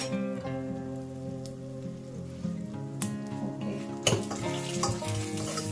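Chopped onions and tomatoes hit hot oil in a pan for a lentil and mutton dish, a steady close hiss and crackle of sizzling throughout, with a few sharper clatters of a utensil.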